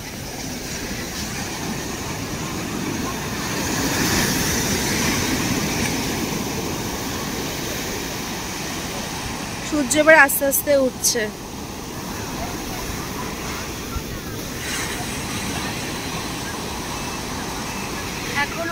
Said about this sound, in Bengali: সমুদ্রের পাড়ে এসে আর কি চাই। সমুদ্রের ঢেউ উপভোগ করবো,